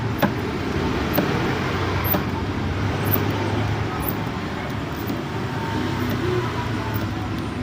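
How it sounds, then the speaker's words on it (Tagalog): Steady roadway noise from vehicles passing at night, a continuous broadband rumble at moderate distance with faint intermittent high ticks and no clear voices. "Naingay na yung mga sasakyan"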